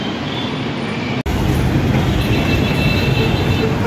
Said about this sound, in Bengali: এখানে হাঁটতে হাঁটতেই এখানে একটা মেট্রো রেল, যেটা আপনারা চোখে পড়বে